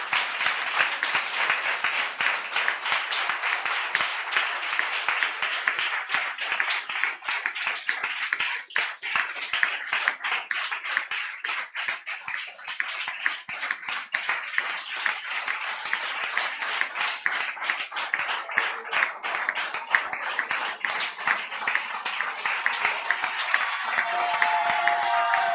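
Congregation at a Sunday worship service applauding, a dense sustained clapping from a large crowd that carries on steadily for about twenty-five seconds, with faint cheers mixed in.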